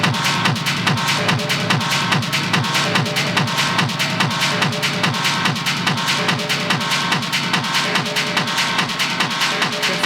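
A dense, pulsing synth riser in an industrial techno track swells with rapid repeating echoes and washy reverb, building steady tension without any voices.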